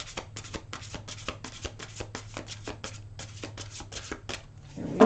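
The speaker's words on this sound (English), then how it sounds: "One more shuffle." A deck of angel cards being shuffled by hand, a quick run of crisp riffling bursts in steady rhythm, close and fairly quiet against a low background hum.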